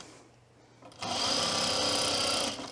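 A sewing machine edge-stitches stretched fabric beside a serged edge on a tool belt project. A quiet stretch gives way to a sudden, loud, steady motor whir that runs close and even, then eases off at the end.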